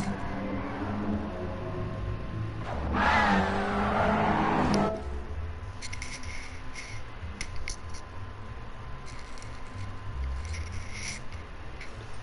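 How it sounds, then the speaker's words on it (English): Rally cars racing in Gran Turismo 7: an engine roars and revs loudly as a car sweeps past over about two seconds, then fades into a steady background hum with light scattered ticking. "We're putting the rally cars to work"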